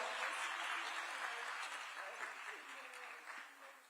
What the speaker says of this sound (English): We can keep clapping for her until she takes a seat